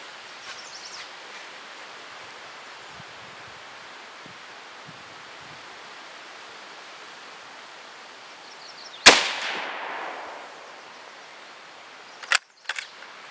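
A Mosin rifle chambered for 7.62x51 NATO is fired from the shoulder outdoors with a single sharp, loud shot that decays into a rustling echo, followed by quieter clicks and handling noises against a steady background hiss.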